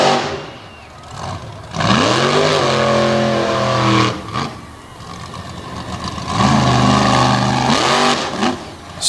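A mini tough truck engine at Selinsgrove Speedway revs hard over track ramps, rising and falling in loud repeated surges with strong rev sweeps, alone without talk.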